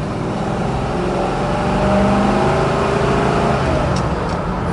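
A 1969 Chevrolet Nova SS pulling through its gears, a steady loud engine drone with a faint shift in pitch partway through, heard from inside the car.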